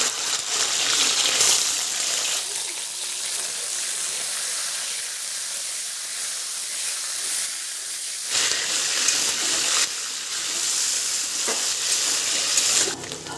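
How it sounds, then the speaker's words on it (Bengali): Continuous loud sizzling and hissing of marinated chicken pieces frying in hot oil, close up, with brief dips and surges as pieces shift. "এবার যে মাংসটা ম্যারিনেট করে রেখেছিলাম এবার ভেজে নেব"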